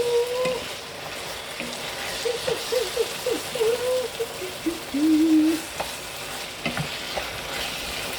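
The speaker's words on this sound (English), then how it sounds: "listen to that sizzle" Steady sizzling and crackling of peas frying in a pan, with scraping and stirring noises over it, close up and continuous.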